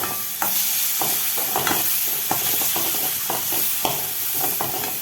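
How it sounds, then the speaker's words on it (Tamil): Sliced radish frying with browning onions in oil in a pan, a loud close sizzle punctuated by repeated scraping and clacking of a stirring spoon throughout. "இந்த நேரத்தில் நம்ம இந்த முள்ளங்கியை அள்ளி போட்டுடலாம்."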